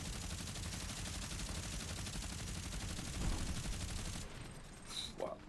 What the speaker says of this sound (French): Wow, 400 balles de minigun, 400 balles aussi ici.